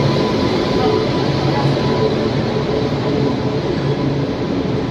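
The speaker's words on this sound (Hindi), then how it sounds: "और ये वाली कोई और एक एक्सप्रेस आई है।" An Indian express train pulls into a busy station, a continuous loud rumble and rolling clatter of wagons on rails that holds steady throughout with no pauses.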